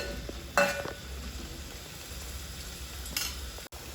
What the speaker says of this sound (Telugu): ఉల్లిగడ్డలు కొంచెం ఆయిల్లో మగ్గాలి